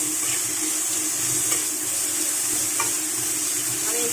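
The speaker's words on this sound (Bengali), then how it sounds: "এখন এখানে দিয়ে দিচ্ছি পেঁয়াজ, আদা রসুন আর কাঁচা লঙ্কা।" Onion, ginger-garlic paste and green chili frying in hot oil, a steady close sizzle with occasional stirring scrapes.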